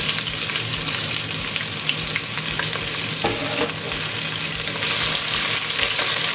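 Sliced onions frying in a pan for a chicken filling, a steady close sizzle with occasional stirring scrapes that continues evenly throughout, with no talking.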